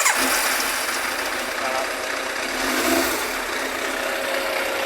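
A Yamaha FZR1000 EXUP motorcycle engine idles with a steady, buzzy mechanical drone recorded close up, while someone talks over it.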